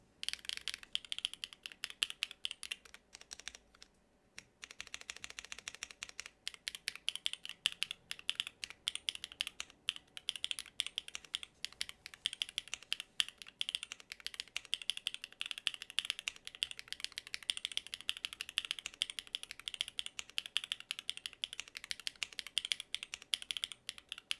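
Steady, rapid typing on a mechanical keyboard fitted with Sarahs switches, the keystrokes sounding close and fairly soft rather than clacky, with a brief pause near the start.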